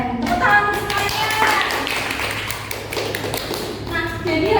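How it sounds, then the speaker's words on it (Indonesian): Children in a Grade 5 elementary science classroom applaud together, a brisk, dense patter of clapping that stays steady throughout and swells again at the end, mixed with faint voices. "Tepuk tangan untuk semuanya."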